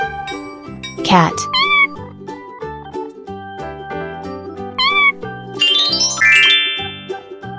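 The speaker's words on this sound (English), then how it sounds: "Cat." A cat meows several times with clear, rising and falling cries, close and loud, set among bright chimes and tinkling music.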